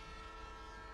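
Train horn in the game Life is Strange 2: a sustained, loud, tonal blast held steadily throughout over low rumbling rail noise.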